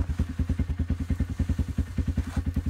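A rebuilt Arctic Cat ZR440 snowmobile engine bogs at high revs, making a rough, lumpy pulsing drone with a fast uneven beat, close and steady throughout with no voices.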